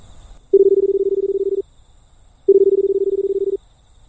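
Telephone dialing in a Japanese escape game played in a public phone booth: two loud, steady tone bursts, each about a second long, separated by a short gap, with nothing else heard.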